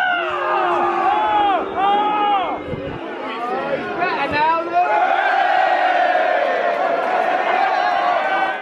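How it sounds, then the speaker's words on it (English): A football crowd at Priestfield Stadium, Gillingham, roars and cheers loudly after a free kick, with whoops and shouting voices swelling into a dense, sustained stadium cheer. "that right there is the biggest cheer I've heard in this stadium today"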